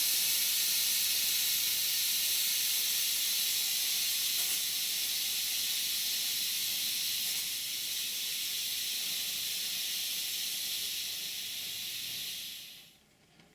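Steam hisses steadily and loudly from the boiler of a model steam locomotive with a V1 footplate for over twelve seconds as pressure drops, then fades abruptly to quiet with a faint click.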